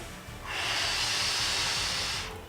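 A person exercising for a herniated spinal disc, pulling both knees to the chest, exhales in one long, steady, breathy hiss lasting nearly two seconds, close and alone.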